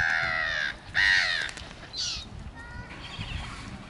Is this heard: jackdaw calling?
yes